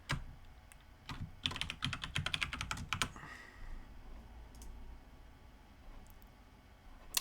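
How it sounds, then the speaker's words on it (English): Quiet, close keystrokes as a password is typed on a computer keyboard: a quick cluster of light clicks and taps for a couple of seconds, then a few scattered presses over faint room hiss. "I'm going to type in a password that you are not going to know"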